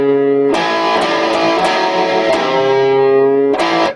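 A heavily distorted electric guitar chugs through a rock and roll rhythm riff built on major thirds. Repeated sharp pick attacks drive a steady, loud, sustained groove with no speech.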